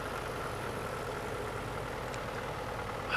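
A vintage Massey Ferguson tractor at a show idles with a constant mid-low engine drone, a steady throb without changes in pace, and no talking, plus a faint click near the end.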